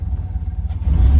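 A Model A Ford engine revs up while in neutral with the clutch in, a low rumbling idle swelling into a louder, steady rev toward the end.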